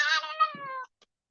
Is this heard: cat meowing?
yes